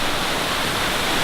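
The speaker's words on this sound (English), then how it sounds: "Pretty massive waterfall." A dense, constant roar of a massive waterfall in Olympic National Park fills the clip, loud and unbroken with no other sounds.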